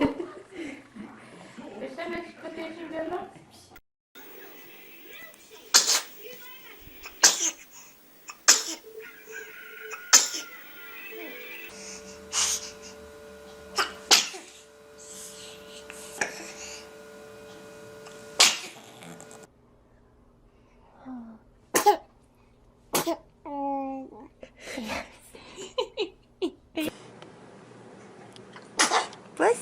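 A baby sneezes again and again, in short sharp bursts spaced across the clip, with adults talking and laughing softly in between the sneezes.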